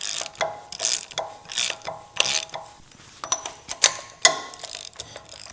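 A hand ratchet drawing a bolt through a front wheel bearing on a 5th generation 4Runner, clicking in a steady series of sharp, close strokes with brief pauses between pulls.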